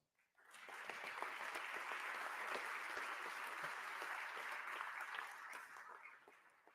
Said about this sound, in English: join me in showing our appreciation to each other with a round of applause